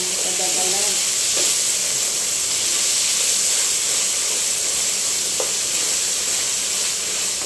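Spaghetti sauce poured into a hot pan sizzles loudly, a dense steady frying hiss that fills the whole stretch with faint clinks underneath.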